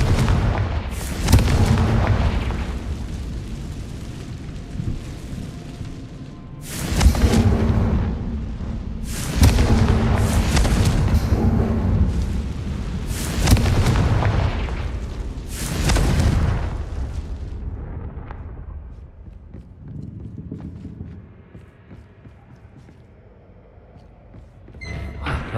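Confringo fire spell explosions in Hogwarts Legacy, a series of heavy booming blasts, about six loud bursts spaced a few seconds apart, each trailing into rumble, then fading to quieter crackles and debris.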